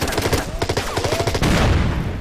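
Rapid gunfire from a turn-based war video game rattles in dense, fast repeated bursts, loud and close, with continuous volleys and no pause.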